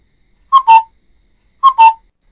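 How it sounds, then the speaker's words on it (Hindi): An Asian koel calling, two clear whistled two-note phrases about a second apart, close and loud against silence. "Do you want to here the sound of a coil?"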